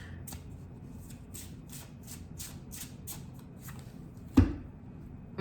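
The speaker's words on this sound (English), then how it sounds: "I'm pulling 2 more cards" Tarot cards are shuffled close up in a steady run of crisp riffling flicks, followed by a single louder tap as a card is pulled; no talking.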